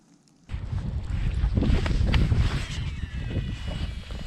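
Gusty wind buffets the mic on a cold winter creek bank with cypress trees while bass fishing, a steady broadband rush starting after a brief quiet moment and staying loud throughout.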